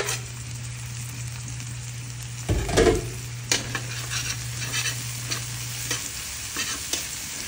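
Onions sauté in a hot pan as the base for a creamy chicken curry, giving a quiet, steady sizzle with a couple of sharp spoon-against-pan stirring scrapes partway through.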